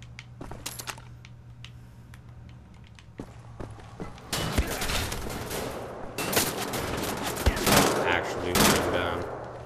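Burst fire from a gun in the shooter Wolfenstein The Old Blood: sharp, scattered shots at first, then louder clustered bursts of rapid fire, plus clattering combat noise and footsteps.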